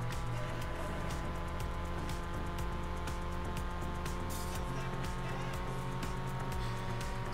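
Car engine in Forza Horizon 4, a Ford RS hatchback labouring up a hill, a steady low drone held throughout with constant loudness, a voice murmuring faintly underneath.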